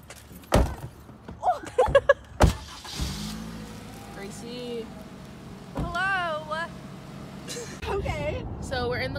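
A car heard from inside while driving on the road, a low steady engine and road hum under sharp clicks and knocks, with voices and a cat-like cry breaking in over it.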